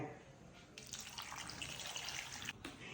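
Steady splashing of water poured into a cooking pot for boiling lemons, a continuous close hiss with a brief pause near the end.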